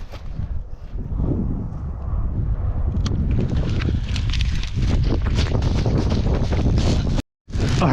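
Strong wind gusts across an open marsh during a fishing trip, roaring steadily into the microphone with heavy low rumble and buffeting, loud and continuous with a brief dropout near the end.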